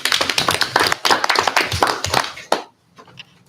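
A meeting audience claps for a retiring school board member, a dense burst of hand claps for about two and a half seconds before stopping abruptly, leaving a quiet room.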